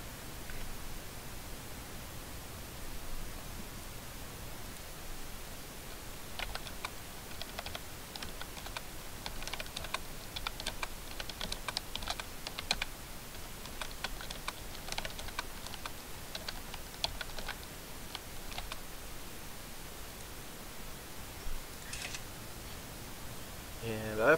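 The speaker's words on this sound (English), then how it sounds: "I was just typing something to a friend in chat" Computer keyboard typing close to a microphone during a Prison Architect gaming session, a run of quick soft clicks in bursts over steady background hiss, with no speech.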